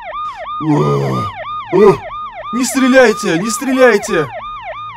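A police car siren in the video game Garry's Mod wails in repeating rising-and-falling sweeps, loud and close, while someone speaks and shouts over it.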